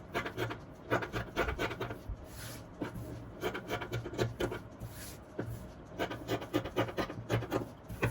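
Scissors cut away excess lining fabric from an aso-oke cap, making soft, close, repeated snipping and rubbing sounds in a steady rhythm, with no talking.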